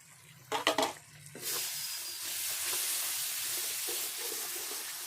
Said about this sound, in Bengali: তো আমি কিছুক্ষণ মশলাটা কষিয়ে নেব